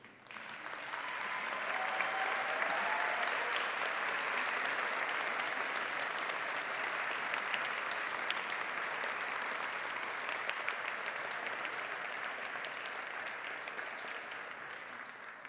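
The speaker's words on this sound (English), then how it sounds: "rise and to acknowledge the support of their loved ones, their families, their spouses with a hearty round of applause" Long, sustained round of applause for graduates and their families at a university agricultural sciences graduation ceremony, a large crowd clapping steadily at moderate distance, holding an even level throughout before easing slightly at the end.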